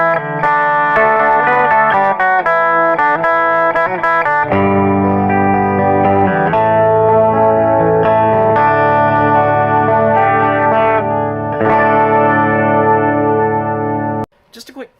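A 2019 Fender Alternate Reality Electric XII 12-string Jazzmaster on its bridge pickup rings out bright, jangly chords through effects, loud and sustained, with a brief break before the final strum.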